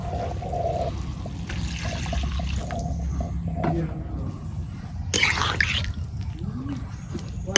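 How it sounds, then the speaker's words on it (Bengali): Water pours and trickles into a pot of curry in a steady stream, then a louder splash, over low background hum and faint speech. "এখানে আমি ঝোলে পানি দিয়ে দিই"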